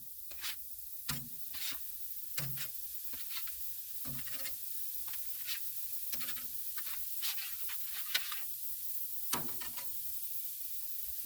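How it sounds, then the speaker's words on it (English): Burger patties on a charcoal grill give off a quiet, steady hiss-sizzle, broken by frequent short crackles and pops, with no voices. "Look at that sizzle."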